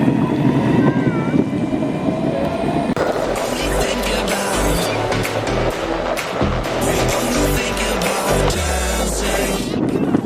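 Two electric skateboards, a Flex-E board and a Carbon GT, accelerate together with a loud, steady rolling roar and rumbling wheel noise. Gusty wind buffets the sound throughout.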